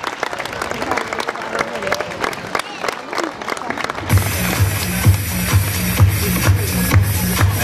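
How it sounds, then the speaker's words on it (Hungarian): Audience applause after a ballroom dance final exam, steady clapping that grows denser and more rhythmic midway, joined by a regular low beat, with voices underneath. "Megérdemlik a tapsot!"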